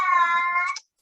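A single drawn-out cat meow, close and fairly loud, with a bright harmonic tone that rises slightly and then breaks off in under a second, with nothing else heard around it.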